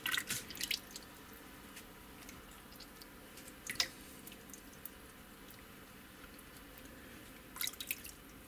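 Water drips off boiled eggplants that were cooled with cold water and left to drain in a kitchen: a few faint, separate drops fall at the start, middle and end over a quiet background.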